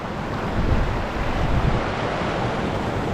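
Strong water current with waves rushes loudly and steadily, a dense continuous roar with gusts of wind buffeting the microphone and no voices.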